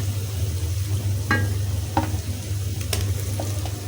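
Onion paste hitting hot oil in a pan for a Bengali coconut chicken dish, a steady close sizzle with a few sharp stirring scrapes and clinks, no talking.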